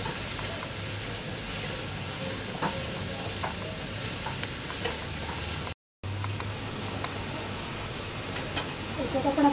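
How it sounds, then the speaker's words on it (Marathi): Onions cooking with ginger-garlic paste sizzle steadily in a pan for paneer bhurji, with scattered scraping stirs through a constant frying hiss and a brief silent gap midway. "लाल करून घेऊया कांदा."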